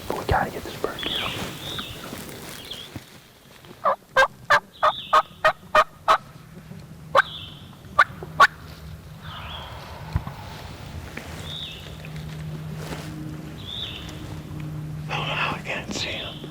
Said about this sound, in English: We've got him gobbling, and then another bird.